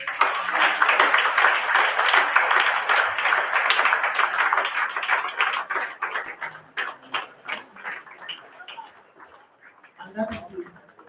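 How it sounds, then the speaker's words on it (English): An audience at a youth town hall meeting in Kwara State applauds for a governor's arrival, with dense clapping that thins out and fades over several seconds, then a brief final burst. "Governor of Kwara State, Madam Abdulrahman, with your resounding applause, please"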